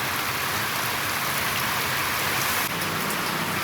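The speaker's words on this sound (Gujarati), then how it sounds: "આ બહાર વરસાદ જો હજુ ચાલુ છે" Steady rain falls outdoors, a dense even hiss of drops striking surfaces, loud and continuous with no voices.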